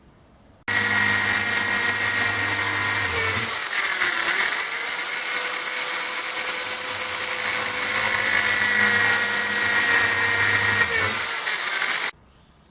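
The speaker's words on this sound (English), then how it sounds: "So we'll drill 4 holes" A drill press running at 3000 RPM boring holes in wood with a countersink bit, a steady loud high-pitched whine held for about eleven seconds, with a brief pitch dip early on as the bit bites.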